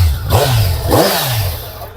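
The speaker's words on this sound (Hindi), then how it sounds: "तो इसके इंजन साउंड से ही आपको एक चीज फील हो जाएगी" A motorcycle engine revs up twice in quick succession, rising and falling loudly and close by, with a rough mechanical clatter between throttle blips.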